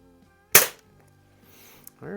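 A single sharp crack from a Tech Force TF-79 .22 CO2 target rifle, close and loud, followed by a short quiet stretch before a voice begins.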